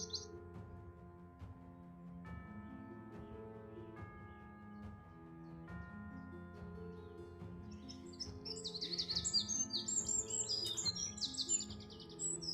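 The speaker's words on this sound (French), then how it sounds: "En pleine journée, tu fais une enquête, t'as autant d'oiseaux." Birds chirp and tweet over steady tonal music, with a cluster of high, quick chirps growing busier toward the end.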